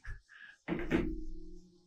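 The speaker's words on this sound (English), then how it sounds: "I'm gonna close the door, I think." A door is pushed shut indoors with a short, solid thud and a brief rattle as it settles. It follows a couple of faint preceding movement sounds and is fairly quiet overall.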